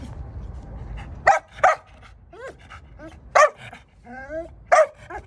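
Loud, close dog barks in short bursts, two quick ones then a single sharp bark and another near the end, with whining, yelping whimpers between them, indoors while someone speaks quietly in the background.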